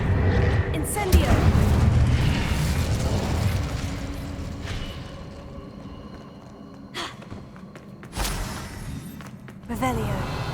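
Incendio fire spell casts in Hogwarts Legacy, several sharp whooshing bursts with booming, crackling impacts spaced through the stretch over rumbling game ambience and mechanical clatter.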